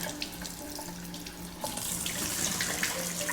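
Sprouts rinse under a running kitchen tap, the steady hiss of water growing louder and brighter partway through as the flow strengthens, with soft splashes in the sink and no voices.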